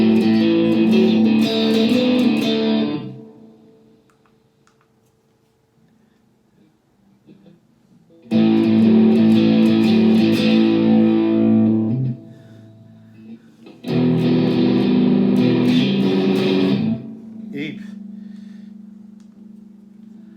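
Three bursts of crunchy, overdriven electric guitar chords from a headphone amp ring out in turn, separated by quiet pauses.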